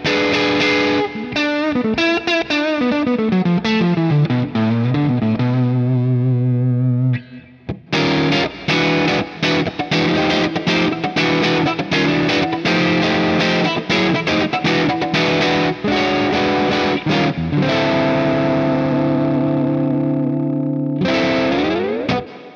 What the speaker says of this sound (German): Also das ist jetzt hier nur eine Spule des Humbuckers.